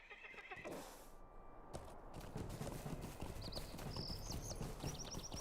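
A horse galloping in a video game, with a quick run of hoofbeats over a steady background and a loud neigh near the start, all heard fairly close.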